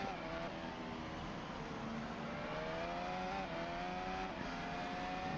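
A Formula 1 car runs a pole lap in qualifying at the 2024 United States Grand Prix. The high engine note climbs and drops through the gears in a continuous whine, heard at a distance and fairly faint.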